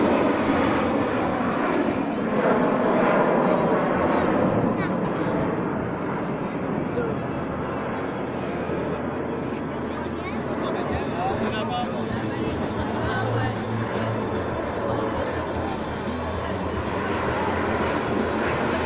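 Patrouille de France jets roar through a simultaneous loop at an air show, a loud, sustained engine rumble that swells and eases, with a commentator talking over it.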